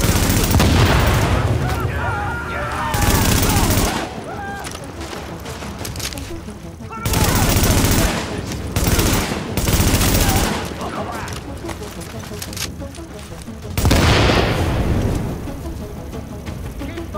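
Loud bursts of automatic gunfire and explosive booms fill a firefight in the video game The Division, coming in repeated volleys separated by quieter stretches of scattered shots, with voices heard between them.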